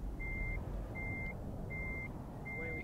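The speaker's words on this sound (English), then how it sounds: "Truck into reverse." A truck in Euro Truck Simulator 2 sounds its reversing alarm, four evenly spaced steady beeps over a constant low engine drone.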